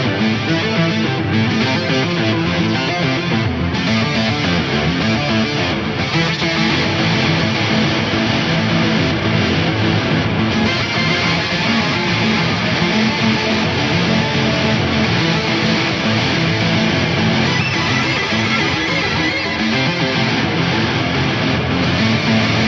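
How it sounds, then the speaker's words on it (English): An electric guitar runs through a filthy fuzz, stereo delay and an Axe-Fx pitch arpeggiator, producing a dense, continuous distorted synth-like wash with rapid stepped notes, loud and unbroken throughout with no talking. "now I've kind of transformed a like clean guitar sound into a pretty filthy fuzz, and then into basically a wicked sounding guitar synth"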